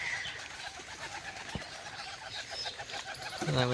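Pigeons kept in nesting boxes with their chicks, giving low, soft cooing over a busy background of other birds, with a brief thump midway and a louder burst near the end.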